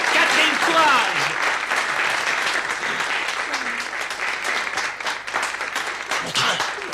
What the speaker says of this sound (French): Applaudissez Catherine Courage!